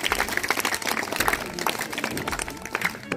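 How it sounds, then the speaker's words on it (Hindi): Enthusiastic audience applause at a teacher's retirement ceremony, uneven clapping that swells and dips across the moment, with a background murmur of voices. "एक बार जोरदार तालियां माता के लिए"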